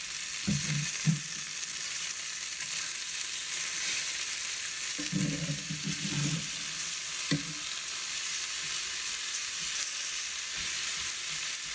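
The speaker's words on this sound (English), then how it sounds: "I'm gonna flip them again and cook it" Chicken pieces frying in a pan, a steady hiss of sizzling fat that runs throughout, with a few soft knocks and scrapes as they are moved.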